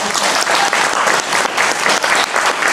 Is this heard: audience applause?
yes